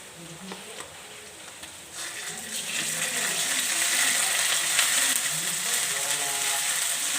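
A paste of ginger, garlic and cumin fries in a pan while someone stirs it. A steady hiss builds and grows louder after the first couple of seconds, with scraping and rattling stir strokes over it and no talk.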